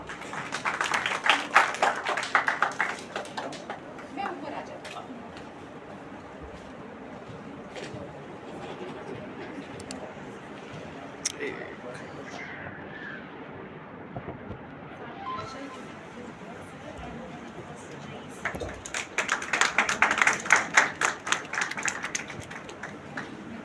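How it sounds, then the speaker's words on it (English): Audience applause at an academic seminar felicitation, clapping swelling at the start, dropping away through a quieter stretch with faint activity, then rising again in a second burst near the end. "Can we have a huge round of applause?"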